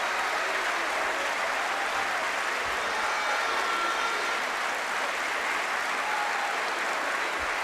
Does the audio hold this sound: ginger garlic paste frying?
no